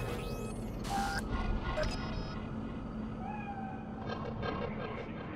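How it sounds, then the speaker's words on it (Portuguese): A cat meows softly a few times in the video game Cyberpunk 2077, set in Night City, over quiet in-game background ambience. "Um gato."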